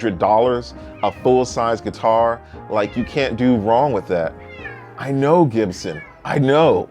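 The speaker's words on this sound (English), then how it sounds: "You can hear him meowing." A house cat meows insistently, with repeated close, loud calls running almost continuously alongside and over someone speaking indoors.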